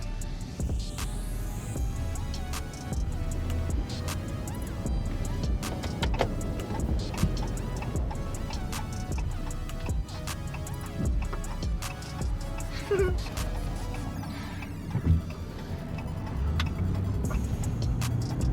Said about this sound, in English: it feels nice to drive a truck again